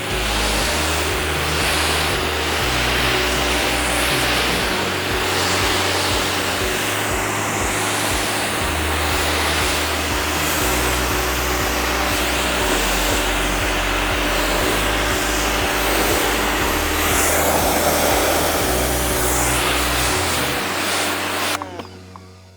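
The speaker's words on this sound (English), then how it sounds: "I'm going to use the 25-degree nozzle for rinsing off." A 4200 PSI electric pressure washer with a 25-degree nozzle sprays at a vehicle in a loud, continuous, broadband hiss. A low, rhythmically pulsing motor hum runs underneath until the spray stops near the end.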